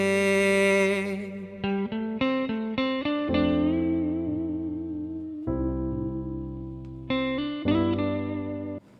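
A guitar recorded for a song plays loud, sustained distorted chords with heavy effects, chorus and reverb, struck in a series of ringing hits that decay and restart, with no voices.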